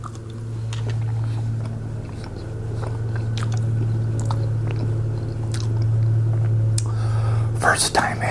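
Close, steady chewing and soft biting of keto low-carb pumpkin pancakes, moist squishy mouth sounds running through with a constant low hum beneath and a brief crunchier burst near the end.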